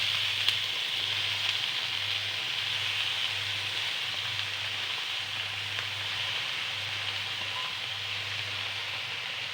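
Cut taro and potato pieces fry in hot oil in a pan with a continuous, even sizzle and a faint low hum underneath. No one speaks.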